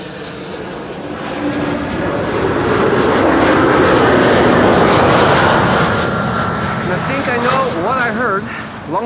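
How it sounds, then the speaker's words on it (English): Boeing 777 of Qatar with GE90 jet engines starting at Schiphol airport, a steady broad roar swelling and easing across the clip, distant and continuous, with voices talking over it near the end. "Those were GE90s over there being started."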